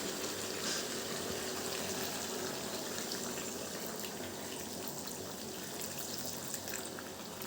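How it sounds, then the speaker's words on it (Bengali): Steady, loud rush of hot water poured into a pan of chicken cooking into a spicy kasha curry, one unbroken gushing stream with no talk. "নাড়াচাড়া করে এর মধ্যে আমি সামান্য পরিমাণে গরম জল অ্যাড করে দেব"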